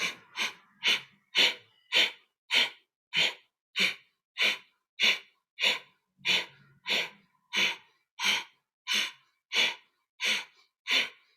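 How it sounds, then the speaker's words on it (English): Deep yoga breaths during a digestion-focused session, about nineteen strong, evenly spaced inhales and exhales in a steady rhythm, close to the microphone and loud with no talking over them. "So inhale and exhale."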